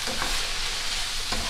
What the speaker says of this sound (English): We have a nice 3-minute saute. You see the browning going on.